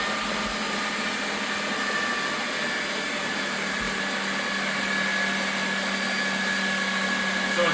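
A stand mixer runs on its low dough setting, churning keto chocolate silk pie filling with a steady, even motor whir that holds at one level throughout, close and alone.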